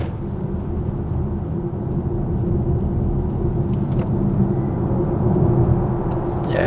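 A Volkswagen ID Buzz electric van pulls away and gains speed, heard from inside as a steady low road rumble and tire roar that grows slightly louder toward the end.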